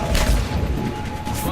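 Sustained gunfire in the sci-fi shooter Mass Effect 3, a dense continuous rattle of shots with low booms underneath and steady loudness through the whole moment.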